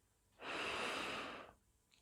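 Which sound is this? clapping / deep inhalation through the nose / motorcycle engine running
deep inhalation through the nose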